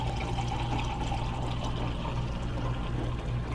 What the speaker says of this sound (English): Oh, you're pouring the beer correctly.